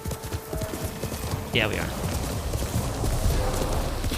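Horse hooves clip-clop steadily in the video game Ghost of Tsushima, a rapid rhythmic beat under game music and noise while a person briefly talks.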